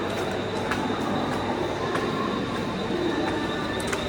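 Suburban local train at Panvel station on the Mumbai line, a steady close rumble of wheels and carriages with faint squeals, continuous and loud with no talk.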